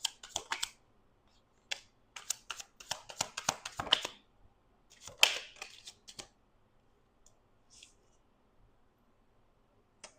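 Bursts of crisp tarot card shuffling and riffling, close up, in short irregular flurries separated by quiet pauses, with a few soft taps.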